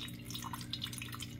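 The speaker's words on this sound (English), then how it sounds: "the extra water is now is coming out into the pot" Surplus water dripping into the glass pot beneath a BUNN Speed Brew Elite CSB2 coffee brewer during initial set-up: a few faint, close, irregular drips over a quiet hum.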